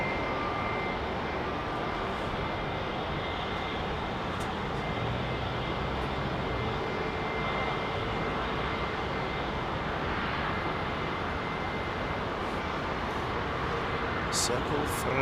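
Airbus Beluga XL jet departing Heathrow Airport, its engines a steady broad roar held at even loudness throughout, with a voice talking over it.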